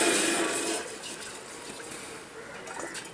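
Water pours and trickles briefly for masala tea in a Kerala kitchen, a soft splashing fill that starts stronger and tapers off into a quieter stream over a few seconds.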